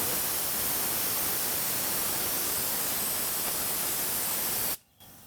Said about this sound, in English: and then spray, loose the lever, return, spray.